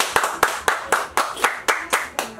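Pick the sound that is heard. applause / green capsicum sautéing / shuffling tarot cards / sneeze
applause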